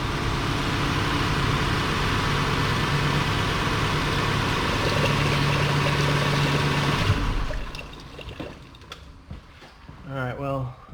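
A Lexus V8 idles steadily in park during a transmission fluid change, a low, even engine drone for about seven seconds before dropping away into quieter clinks and a brief voice.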